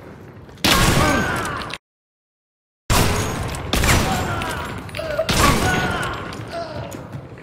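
A grenade blast and bursts of gunfire from a first-person shooter game erupt in loud, dense volleys with a brief gap of silence, while players talk excitedly over the action.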